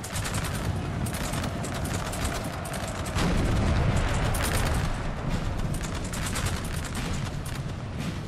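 Napoleonic battle in Napoleon: Total War with the Napoleonic III mod, where cannon artillery fires over dense musketry, a continuous loud barrage of overlapping booms and crackling volleys.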